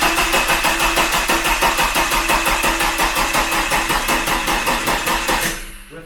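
A Ford Cortina Mk3 engine turning over on its starter motor after fire damage, a steady rapid rhythmic cranking that runs loud and close for about five and a half seconds before winding down and stopping without catching.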